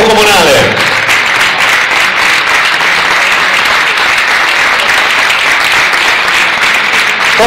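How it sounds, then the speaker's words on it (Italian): Theatre audience at the Teatro Comunale applauding team captains on stage, a loud, dense, sustained wash of clapping that holds steady throughout. "salutati dall'applauso del Teatro Comunale."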